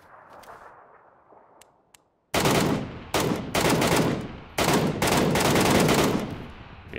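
Mk14 rifle fire in PUBG, a sharp loud burst of rapid shots that breaks a quiet lull, then several more dense volleys with brief gaps between them.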